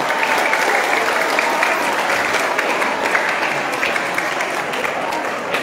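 A crowd at a teachers' day celebration in a pesantren in Lhokseumawe, Aceh, claps together in sustained, even applause lasting several seconds, dense and steady from start to finish.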